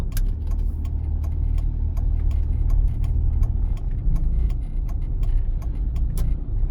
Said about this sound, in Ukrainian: Пропускаємо пішоходів і продовжуємо наш рух.